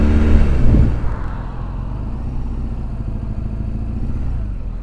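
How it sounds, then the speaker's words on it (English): A 2007 BMW R1200GS motorcycle engine runs at steady speed, its low, even drone and mechanical clatter holding close and fairly loud after a brief louder burst at the start, with wind noise over it and no talk. "the engine is very, very talky"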